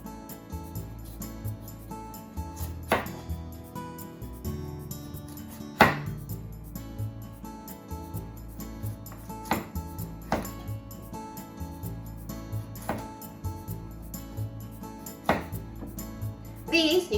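A kitchen knife shaves the hard, thick outer skin off a broccoli stem, its strokes landing as sharp, regular cuts every second or two over steady background music.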